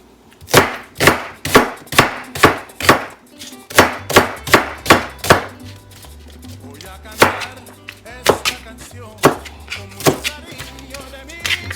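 Sweet onions chopped into big chunks on a board for street tacos: a run of sharp, evenly spaced knife thunks, a brief pause, then more irregular chops with faint background hum.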